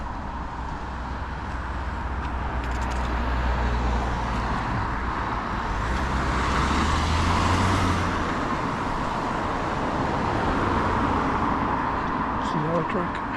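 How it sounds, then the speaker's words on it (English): Steady road traffic noise, a continuous broad rumble of passing cars and heavier vehicles with a swell in the middle, heard close and fairly loud from the roadside. "welcome back to traffic"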